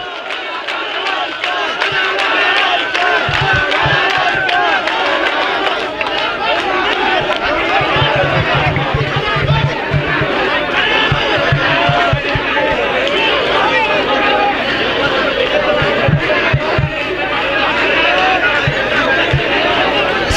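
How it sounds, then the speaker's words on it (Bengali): A dense crowd at a political rally in Bangladesh chants slogans loudly and continuously, with shouting voices, babble and some rhythmic thumps throughout, close and overwhelming. "স্লোগান দিলে তো কথা বলতে পারবো না স্লোগান বন্ধ করেন"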